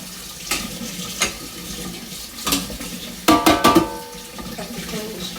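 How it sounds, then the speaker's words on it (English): Rice is rinsed off a strainer under a running kitchen tap, with a steady water wash broken by clinking knocks and a cluster of sharp metallic rattles near the end, close and fairly loud. "Wash all the rice off of it."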